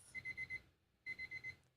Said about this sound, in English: There goes the alarm right there.